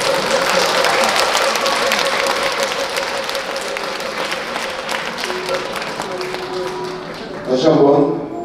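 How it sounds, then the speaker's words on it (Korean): Large crowd clapping steadily at a Buddhist ceremony in a Korean temple hall, a continuous wash of applause that swells briefly near the end, with a voice speaking over it. "신도회장님, 박대장님께 큰 박수 부탁드립니다."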